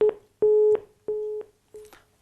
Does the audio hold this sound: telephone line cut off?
yes